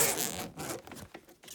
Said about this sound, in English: The zipper is kind of stiff on this